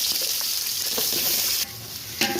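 Half a kilo of chopped onions dropped into hot oil for chicken biryani, a loud steady sizzle and crackle that drops off briefly, then flares again with a sharp burst near the end.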